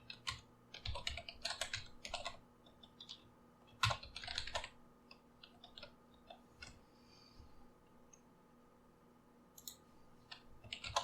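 Code being typed on a computer keyboard, a soft, close clatter of keystrokes in irregular bursts and short runs with quiet pauses between them, over a faint steady hum and with no talking.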